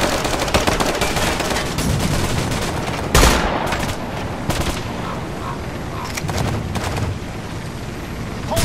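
Urban warfare video game combat with dense, loud gunfire throughout, rapid automatic bursts and sharp single cracks overlapping, one heavy boom near the middle, and faint radio-style voices under the shooting.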